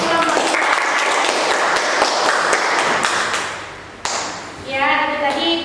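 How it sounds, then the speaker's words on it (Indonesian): Classroom applause for a student group presentation, dense clapping from a group of pupils filling the first few seconds, then fading, with a voice speaking over the end. "Beri tepuk tangan untuk presentasi kelompok."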